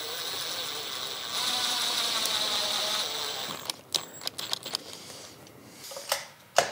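A screw being driven to mount a door deadbolt: a steady mechanical whir for a few seconds, then a string of sharp ratcheting clicks and taps close by, with no talking.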